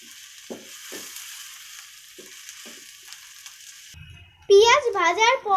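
Onions frying in oil in a cooking pot give a steady hissing sizzle for about four seconds, with a few soft stirring knocks. Then a voice speaks over the frying.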